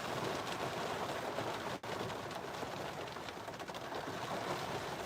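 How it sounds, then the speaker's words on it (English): Heavy rain pouring down on a rainy Sunday afternoon, heard as a steady, fairly faint hiss of falling water with a brief dip partway through and no speech. "It is super pouring rain out"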